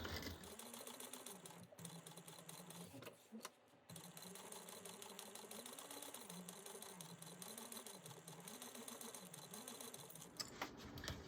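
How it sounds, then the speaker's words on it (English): A sewing machine stitches around a bag with a lengthened stitch, its motor running in a steady, close, continuous whir with rhythmic needle clatter, briefly pausing twice and stopping near the end. "I'm going to lengthen my stitch, and I'm going to just sew around at 1/8 of an inch."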